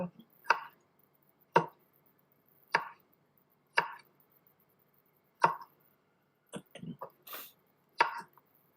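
Knife chops land on a board while curry is being cooked, single sharp strikes spaced about a second apart with a quicker cluster near the end, heard nearby against quiet.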